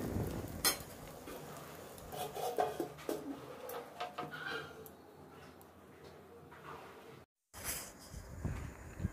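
Metal clinks and a lid settling onto a pot of muri ghonto in a home kitchen, with a few sharp clanks near the start. Pigeons coo faintly in the background and the room is otherwise quiet.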